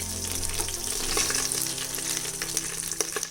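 Cumin seeds sizzling in hot oil in a rice cooker pot, a bright continuous crackle and hiss with scattered pops, close and steady for about three seconds, over a faint low hum.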